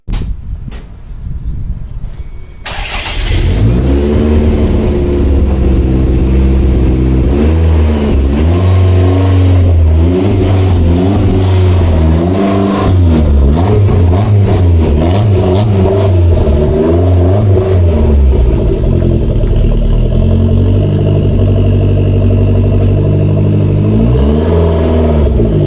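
Toyota MR2 fitted with an Apexi N1 Evolution exhaust, heard from outside in a street or alley: the engine starts and revs repeatedly, rising and falling loudly and close, with a raspy exhaust note sustained for over twenty seconds.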